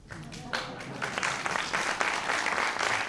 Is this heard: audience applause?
yes